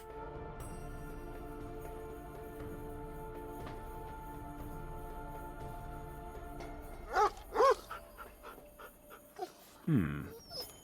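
A dog in the video game Lost Horizon pants steadily under an even background hum, then lets out a few short whimpering and yelping vocal bursts toward the end.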